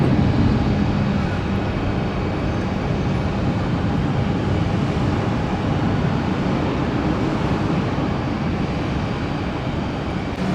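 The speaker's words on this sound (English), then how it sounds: "Here's 2330 to Newark, climbing up over our house." A jet airliner bound for Newark climbs out overhead after takeoff near Tampa, heard as a continuous broad engine roar that stays loud and fairly even, with faint talk underneath.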